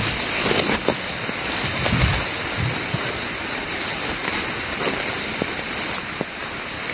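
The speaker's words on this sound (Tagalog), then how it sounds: "Sobrang lakas ng ulan." Heavy rain drums hard and continuously nearby, with scattered louder splats and drips standing out from the dense roar.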